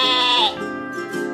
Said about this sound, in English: It's sheep.